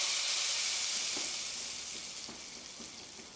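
Chili powder tempering poured into cooked dal, giving a steady broad sizzle and hiss that slowly fades, with a few soft stirring clinks.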